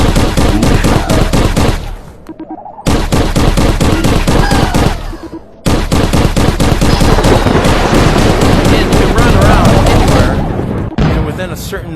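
Rockets fire and explode in the VR game Crashland, a loud, dense barrage of blasts and booms broken by two short gaps, with a voice briefly heard over the action.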